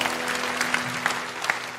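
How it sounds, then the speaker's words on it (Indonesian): Congregation at an Indonesian Sunday worship service breaks into steady applause, a dense wash of hands with a few louder claps standing out, fairly close. "kasih tepuk tangan untuk Roh Kudus."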